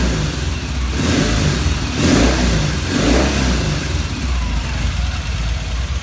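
Vintage British motorcycle engine under restoration, started on a supercharged battery, revving in three swelling bursts over a steady running drone, close and loud with no talk.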